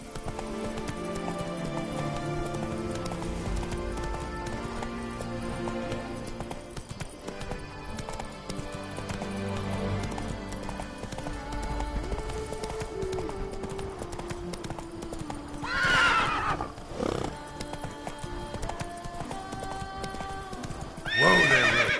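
Roach, the horse in The Witcher 3: Blood and Wine, gallops with constant hoofbeats under background music, then whinnies loudly twice near the end.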